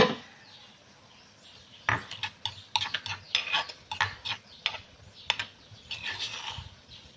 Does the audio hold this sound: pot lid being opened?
yes